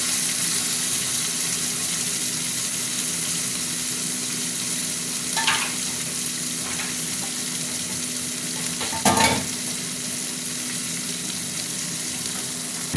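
Amudi fish fries in a pan, giving a continuous, loud, close sizzle for the whole stretch, with a steady low hum beneath. A light utensil scrape comes midway, and a sharper knock follows later.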